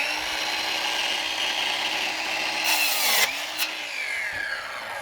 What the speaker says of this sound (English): Okay, so how will this cut hardwood floors, oak hardwood floors?